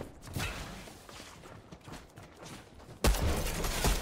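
Gunfire bursts ring out in a Fortnite match, faint scattered shots and movement sounds for three seconds, then a louder, denser volley near the end, with no talking.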